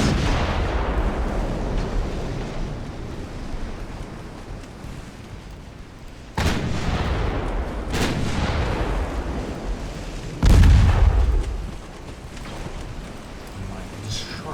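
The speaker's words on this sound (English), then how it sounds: "Let's do some firing here for a moment." Naval guns fire in the warship game Ultimate Admiral Dreadnoughts as a few heavy booms land over a continuous rumbling sea-and-engine bed, the last blast the loudest.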